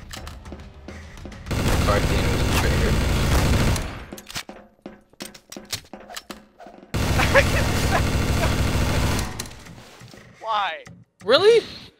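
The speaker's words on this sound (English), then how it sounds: "Why are you guys all shooting at people?" Loud bursts of rapid gunfire from the video game Garry's Mod Trouble in Terrorist Town come in two sustained volleys of a few seconds each, with voices and brief sounds in the gaps.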